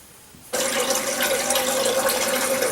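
Water rushing into a toilet tank after the supply is turned back on, starting abruptly after a brief quiet moment and then filling steadily with a constant hiss and a faint tone, close by.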